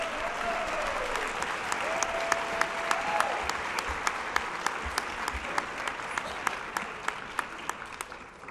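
Steady audience applause at a school science fair fills the space, many hands clapping continuously with a few sharper claps standing out, fading slightly toward the end.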